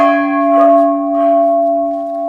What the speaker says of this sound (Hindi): यहाँ पे ये बड़ी घंटी लगी हुई है,